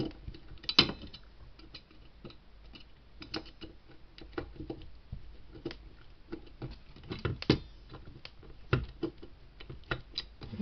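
Small screws being driven into a DeLorean scale model kit, giving irregular clicking and ratcheting taps with short mechanical bursts, fairly quiet and close, with no talk.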